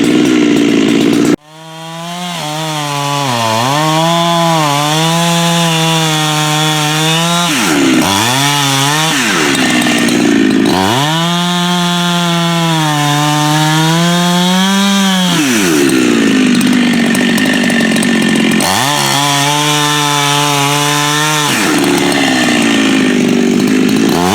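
A chainsaw felling an ash tree, the engine roaring loud and close through several long cutting passes with pitch dips and brief idling between them, no voices.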